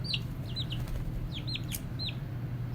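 Several hens cluck and chirp in short, bright bursts over a steady low rumble of farmyard background, the calls scattered irregularly and fairly close, with no talking.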